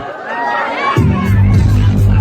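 A crowd at a live dancehall event featuring Jamaican artists breaks into loud cheering and applause about a second in. The noise stays as a dense, sustained roar over booming low bass.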